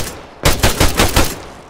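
Rapid burst of about five gunshots in Arma 3, evenly spaced and loud, fired close by in quick rhythm with a short fading tail afterward.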